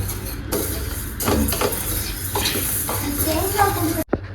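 Rice dry-roasts in a pan while being stirred, giving a soft continuous rustling sizzle with intermittent scraping strokes of the spoon against the pan, and a voice speaks faintly in the background.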